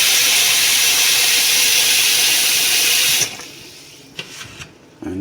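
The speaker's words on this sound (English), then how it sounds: "I'm going to go ahead and add some water" Water from a kitchen tap pours loudly and steadily into a bowl of raw oxtail, then shuts off, leaving a few faint drips and clinks.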